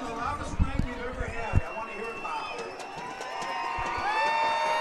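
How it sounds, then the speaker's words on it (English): A packed high school football crowd cheers at a night game between Arcadia and Coconino in Phoenix, Arizona, a steady roar of voices with shouts and whoops that peak early, swell again toward the end, and carry along under talk. "We got a packed crowd at Arcadia High School tonight"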